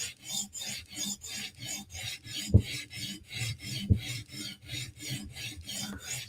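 Knife blade edge being sharpened by hand, steady rhythmic rasping strokes about three per second, close and clear, with two heavier knocks partway through.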